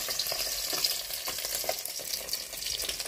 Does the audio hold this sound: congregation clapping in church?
no